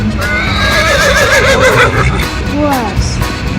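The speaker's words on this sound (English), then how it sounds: "Horse." A horse neighs loudly and close, a long quavering whinny followed by a shorter descending call, over a dense rumbling background.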